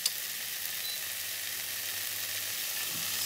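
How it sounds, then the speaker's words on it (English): Streaky bacon sizzling in a dry non-stick pan with no oil, a steady bright hiss and crackle that holds evenly throughout, close and moderately loud, with a small tap at the start and no talking. "Sizzles away,"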